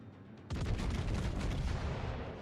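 A 406mm naval cannon fires in World of Warships, a sudden heavy boom bursting in loud and close before a rumbling tail carries through to the end.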